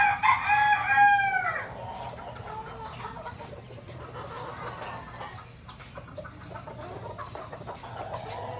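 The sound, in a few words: rooster crowing, white kelso cross gamecock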